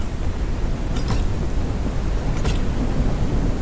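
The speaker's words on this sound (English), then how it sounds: "A storm is coming, of course." Thunderstorm in the video game Forever Skies, steady loud roar of rain and wind with a deep rumbling undertone, broken by two crackling thunder snaps, and no voices.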